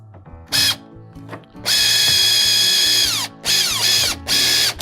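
A power driver with a Phillips bit tightens mounting hardware for a Power Pole Micro anchor on a Hobie Pro Angler kayak. It runs in several loud close bursts of motor whine that slow as each screw seats, with quiet clicks and handling in the gaps.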